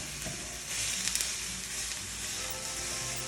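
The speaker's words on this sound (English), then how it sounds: "Let's start breaking the sausage up." Sausage being broken up while it fries in a skillet: a steady, bright sizzle with crackling pops and light scraping, fairly close and quiet, with no talking.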